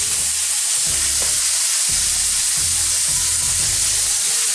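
Steak sears in a hot pan with rosemary, giving a steady, close, loud sizzle and hiss with a few low thumps and no talking.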